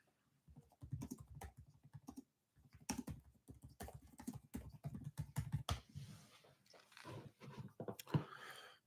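A computer keyboard is typed on in quick irregular clusters of soft clicks, near and fairly quiet, with brief pauses between bursts.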